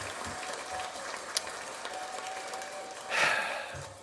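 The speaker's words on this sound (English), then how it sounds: "This is the long applause." A canned applause sound effect runs as a steady, fairly faint wash of clapping, with a slight swell near the end and nobody talking.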